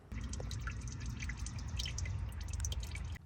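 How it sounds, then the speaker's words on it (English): Fresh CVT fluid pours into the transmission of a 2015 Subaru Outback, a steady close trickle and splatter of liquid with dripping detail throughout, no voices. "I got fresh CVT fluid 2 going into the transmission"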